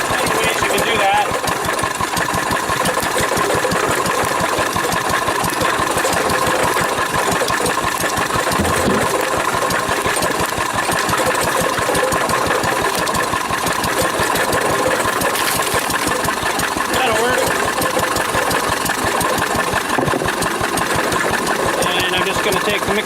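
A 1940s Wolseley stationary engine driving an old cement mixer by flat belt runs steadily and loudly close by, with a fast, even chugging beat and a constant mechanical rattle.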